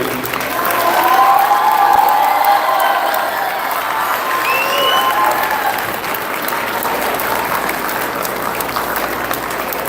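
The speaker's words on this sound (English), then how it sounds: "Another round of applause for these two," A sports banquet crowd claps loudly and steadily for a team, with cheers, whoops and scattered voices rising over the applause before it settles into a continuous roar.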